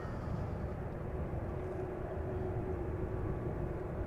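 Emirates Airbus A380 taxiing at Amsterdam Schiphol Airport, a steady low jet engine rumble with a faint whine held at an even distance throughout, no voices.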